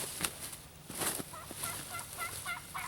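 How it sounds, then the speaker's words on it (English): Wild turkeys gobble during a South Carolina hunt, several rattling calls at moderate distance followed by softer, repeated gobbling further off, heard without talk over outdoor quiet. "We still got a couple birds gobbling"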